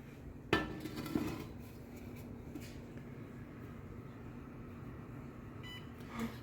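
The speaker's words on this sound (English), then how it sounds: "now I'm going to pull them out and let them sit up here a while." A baking pan of cinnamon rolls clanks sharply as it is pulled from the oven and set down, two close metallic knocks, then a quieter clink amid a low kitchen hum.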